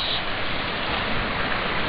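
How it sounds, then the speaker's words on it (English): Creek water flowing beneath an old troll bridge, a steady broadband rush and babble that stays constant and fairly close for the whole moment, with no voices over it. "and the creek that goes below it"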